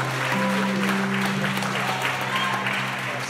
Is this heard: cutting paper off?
no